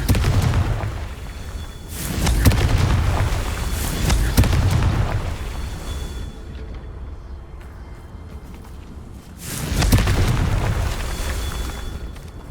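Confringo spell explosions in the video game Hogwarts Legacy: loud booming blasts with rumbling, crackling tails, a cluster of bursts early on and another big blast near the end.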